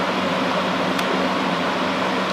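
Homemade Corsi-Rosenthal air filter built from a box fan, running on full blast in a kitchen: a constant, close, even broadband whoosh of moving air with a steady low hum and no pauses.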